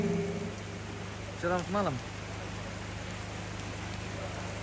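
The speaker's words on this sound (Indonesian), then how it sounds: "Wah, masih hujan." Rain falls steadily during an evening consolation worship service, a continuous even hiss throughout, with someone briefly speaking a greeting over it.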